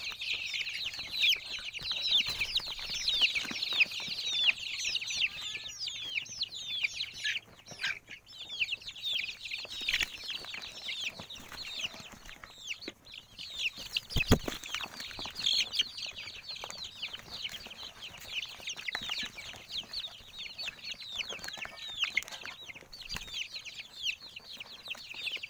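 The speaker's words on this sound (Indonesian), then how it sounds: "Ayam-ayam pada kepanasan, saking panasnya berebut." Farm chickens on a hot day cluck and squawk continuously as they scramble and jostle, a dense, fairly faint flock chorus with occasional sharp bumps and no talk.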